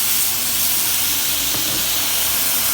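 Tomatoes dropped into a hot pan with sardines (omena), giving a loud, steady sizzle and hiss that fills the whole moment without a break.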